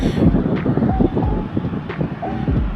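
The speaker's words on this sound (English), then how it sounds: "I don't know if this wind is gonna interfere" Wind gusting outdoors, a steady broadband rumble buffeting the microphone throughout, with a few faint tonal chirps and thumps in the background and no speech.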